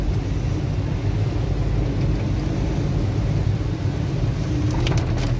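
Heavy rain pours steadily in a busy Chirag Delhi street, bikes and traffic stopped nearby, a dense continuous roar with no clear thunderclap standing out, close and loud throughout.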